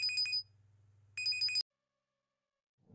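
Two short bursts of a telephone ringing, bright trilling electronic tones separated by a pause, play in a quiet domestic room in a Marathi TV serial, then silence follows.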